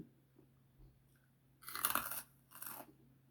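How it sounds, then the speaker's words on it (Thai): Crunchy chewing of som tam, a Thai green papaya salad, sits close to the ear in two short bursts of crisp crunching after a near-silent pause. "ชิมมะละกอก่อนนะคะ ทุกคน กินส้มตำก่อน จ้า"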